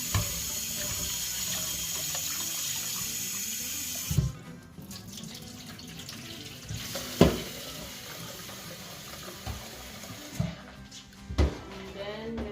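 Tap water runs into a small kitchen sink while something is washed, a steady splashing stream interrupted by brief clanks and knocks, fairly quiet and close by.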